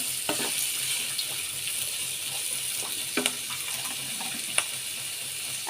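Sliced potatoes and onion flowers frying in hot oil in a pan, a steady, close sizzle that stays fairly loud throughout, with a few faint clinks and stirring sounds.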